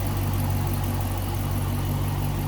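A 2014 Dodge Challenger R/T Shaker with a 5.7 liter Hemi V8 idles steadily, a smooth, even low rumble that holds constant and close with no voices.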